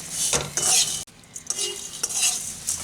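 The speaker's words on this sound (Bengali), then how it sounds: "আমাদেরকে এইভাবে এটাকে নাড়তে হবে" Flattened rice and sugar are stirred in a pan: close, scraping strokes of a spoon against the metal with a light sizzle underneath, in several distinct passes separated by brief pauses.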